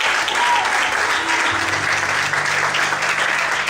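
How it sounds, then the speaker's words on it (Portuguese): A church congregation applauds in a dense, sustained burst of clapping that fills the room, with a low tone sounding underneath. "Quantos podem glorificar e aplaudir a Deus nessa noite?"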